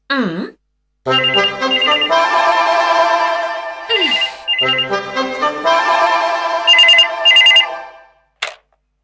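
A telephone bell rings loudly in repeated bursts across several seconds, with short pauses between rings, in a domestic setting.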